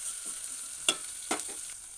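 Onions frying in a pan, a faint steady sizzle with two brief scraping stirs close by, no voices.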